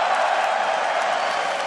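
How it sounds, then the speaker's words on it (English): Large arena crowd cheering at a 2016 summer final League esports match in Toronto's Air Canada Centre, a dense steady roar filling the whole stretch, loud and continuous with no pauses. "And everybody cheering you here."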